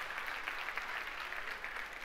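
Audience applause at a live concert in the Dubai Opera house, a dense, steady wash of many hands clapping at once, sustained and fairly even throughout with no voices rising above it.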